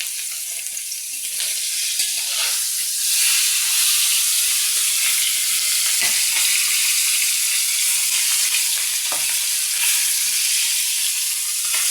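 Food fries in a pan over a lit stove in a village kitchen, giving a continuous close sizzle and crackle with a few brief dips and no talking.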